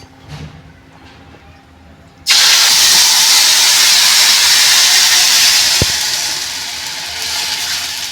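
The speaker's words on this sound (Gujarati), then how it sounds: "હવે વઘાર આવી ગયો છે આપણે એમાં છાશ નાખીશું" After a quiet start, buttermilk poured into a hot oil tempering of mustard seeds and asafoetida for a sev and buttermilk curry sets off a sudden, loud, rushing hiss that holds and then eases slightly.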